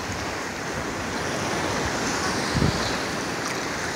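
Atlantic Ocean surf at Varadero beach in Cuba, a steady wash of breaking waves with wind buffeting the microphone, one brief louder gust or thump near the end, no voices.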